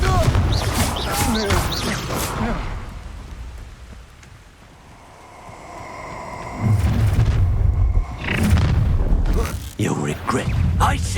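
Confringo spell explosions boom and crackle during a Hogwarts Legacy duel, dense loud blasts at the start, a quieter lull in the middle, then renewed heavy impacts mixed with voices.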